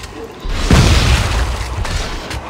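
A grenade goes off in Dead Space 3, a loud, close boom that strikes suddenly and then rolls out into a long, rumbling decay.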